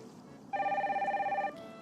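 An electronic telephone rings once in a Nancy Drew video game, a steady warbling tone lasting about a second, clear and prominent over a quiet background.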